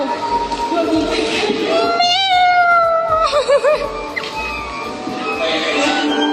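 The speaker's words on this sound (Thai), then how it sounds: "เอ้ยอุ้ยแมวแมวแมว" A cat meows several times, its rising and falling cries up close amid lively background chatter and crowd noise.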